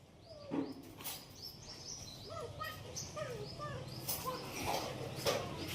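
Small birds, sparrows among them, chirp and twitter repeatedly outdoors, brief high calls scattered throughout at moderate distance over a low steady background hum.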